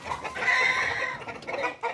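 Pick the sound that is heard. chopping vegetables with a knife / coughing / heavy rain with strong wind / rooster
rooster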